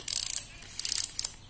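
Winding the film advance on a Pentax 67 medium-format camera gives close, crisp ratcheting clicks in three quick bursts, each a rapid run of small mechanical ticks, with no talk.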